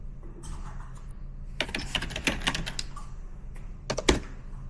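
A computer keyboard is typed on during a medical coding work-from-home session, giving clusters of quick, close key clicks over a low room hum, ending with a sharper, louder key strike.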